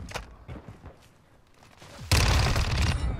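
A burst of gunfire in Call of Duty: Modern Warfare II. It erupts abruptly after a stretch of quieter scuffling and movement, then keeps going as a loud continuous volley to the end.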